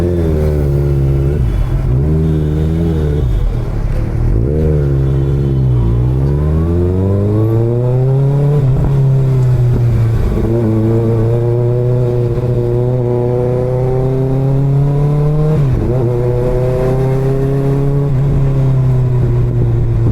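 A sport bike on a Sunday ride near Lonavala revs hard, its loud, close engine note rising and falling through several throttle blips before climbing steadily as it rides off.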